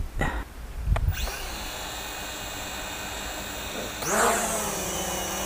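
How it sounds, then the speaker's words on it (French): A Snaptain SP500 quadcopter drone taking off outdoors in gusty wind: its rotors spin up into a steady high-pitched whine, then rise again in a second louder surge near the end, with background noise throughout. "le drone décolle"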